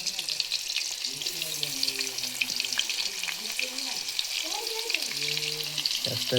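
Sliced onion sizzling and frying in a pan while being stirred gently, a steady close crackle with intermittent voice-like tones in the background.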